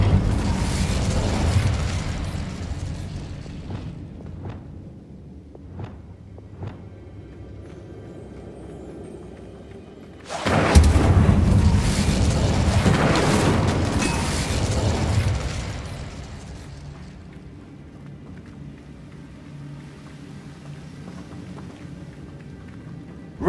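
Fire spell explosions from the video game Hogwarts Legacy: a sustained roaring burst erupts midway and fades over several seconds, following earlier scattered popping impacts and combat noise, with no speech.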